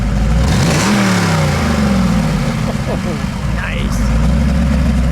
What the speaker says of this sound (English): let me hear a little rev if you don't mind.